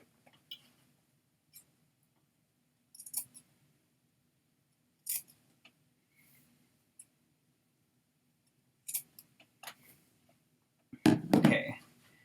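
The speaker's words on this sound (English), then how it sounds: "I'm going to fold them in half and just cut them again" Scissors snipping through folded fabric pieces for a holiday bloom banner, a few sparse crisp cuts spread out over quiet, ending in a louder close burst of handling.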